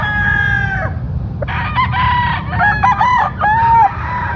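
Several gamefowl roosters crow one after another close by, long rising-and-falling calls overlapping over a steady farmyard background.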